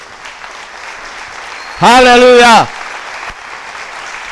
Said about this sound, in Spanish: Aleluya, denle un aplauso